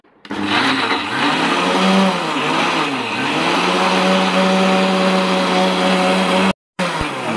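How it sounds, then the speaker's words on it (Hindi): Electric grinder blending fresh mint, coriander and green chilies with a little water for a gourd raita: a loud, continuous whirring drone with wavering pitch dips, running steadily for several seconds before cutting off briefly near the end. "देखें मैंने इसको ग्राइंड कर लिया"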